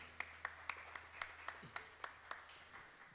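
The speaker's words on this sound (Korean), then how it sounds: "박수 한번 주세요." Slow, evenly spaced handclaps from a small concert audience, about nine distinct claps in a steady rhythm, faint and a little distant in a quiet room.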